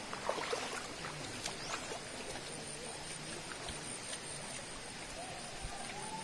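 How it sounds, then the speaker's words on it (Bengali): Water trickling and splashing steadily at the Suptodhara waterfall in Sitakunda eco park, Chittagong, a soft continuous wash of falling water heard alone at low level. "ঝিরি ঝিরি আওয়াজ, ঝর্ণার পানি ঝরে যাচ্ছে।"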